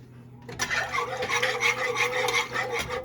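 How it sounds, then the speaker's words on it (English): Milk is stirred into a roux in a pot for southern mac and cheese, a spoon rasping and scraping in a steady back-and-forth rhythm after a quiet start, close and moderately loud. "I want to go ahead and add the rest of this milk in here. And I want to continue to stir."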